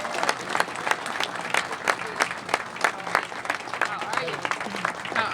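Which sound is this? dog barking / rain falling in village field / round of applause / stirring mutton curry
round of applause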